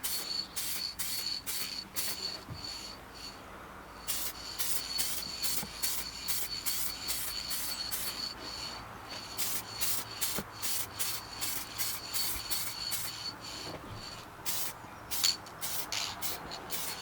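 An aerosol can sprays varnish onto a watercolor painting in short, repeated hissing bursts with brief pauses between them, close and moderately faint.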